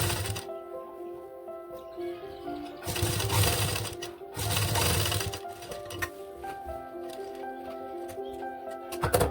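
A sewing machine stitches the back neckline of a top in two bursts of steady mechanical whirring and clatter, close and moderately loud, with quieter gaps and faint background tones between.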